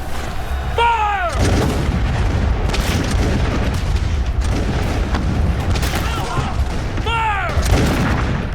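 Musket volleys crack out in a battle reenactment of the charge at New Orleans, loud booming bursts near the start and again around the end, over continuous crowd and battlefield noise, with shouted commands.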